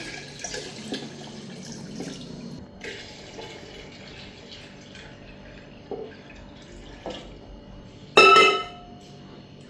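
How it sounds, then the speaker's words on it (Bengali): Water poured into a household water filter in a kitchen, a thin running trickle with faint drips and light clinks, ending in a brief loud rush of water near the end. "ফিল্টারও জল দিয়ে দিতেছি"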